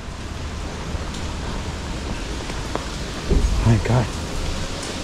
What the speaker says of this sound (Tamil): மழை வேற பெஞ்சிட்ருக்கா, பெரும் தொல்லையாக இருக்குது.